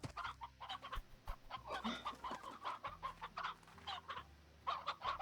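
Chickens in the video game Slime Rancher cluck and chatter in a busy flock close by, with sharp clucks scattered over a low background hum.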